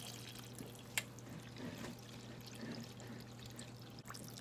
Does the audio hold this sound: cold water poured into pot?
yes